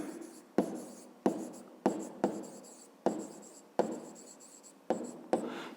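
A pen scratches across paper during a fifth-grade math exercise: about nine quick, close strokes in a steady rhythm, each starting sharply and trailing off, with no talk.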